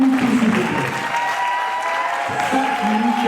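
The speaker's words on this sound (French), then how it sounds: "On applaudit l'équipe." An audience claps steadily for a team at a French-language student debate, the dense applause staying loud throughout with a tonal hum and faint voices beneath.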